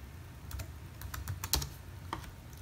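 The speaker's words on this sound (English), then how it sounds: "Put the password. And press Enter or click Connect." Quiet, close typing on a computer keyboard as a Wi-Fi password is entered, a handful of irregular key taps with one firmer press near the middle.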